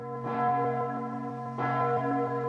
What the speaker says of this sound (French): La plus grosse cloche de France. Elle est si puissante qu'on l'entend à 10 km à la ronde.